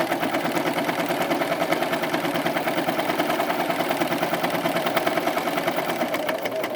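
A Bernette 75 sewing machine by Bernina stitches steadily, its needle mechanism chattering in a fast even rhythm, close and moderately loud with no talking.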